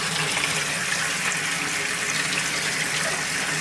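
Rusty water from a soak of pinball machine legs is dumped out in a steady, close, loud gush that stays even and unbroken throughout, with no talking.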